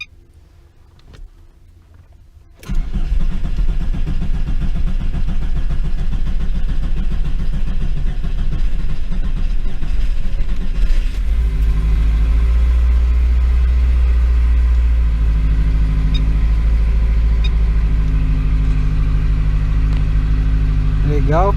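Car engine on a test bench cranking and catching, then settling into a steady, loud running rumble that deepens midway and continues to the end.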